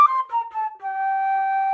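A flute in its high range plays a short run of bright, clear notes stepping downward, then settles on one long sustained tone, solo and close.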